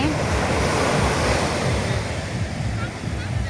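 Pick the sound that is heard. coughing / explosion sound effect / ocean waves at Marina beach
ocean waves at Marina beach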